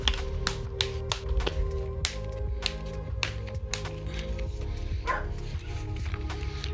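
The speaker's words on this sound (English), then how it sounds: "My dog is out in the yard, Ozzy, so he will probably be doing some barking" A dog named Ozzy barks out in a yard, sharp repeated barks at an irregular rhythm, clear but not very close, over a low steady hum.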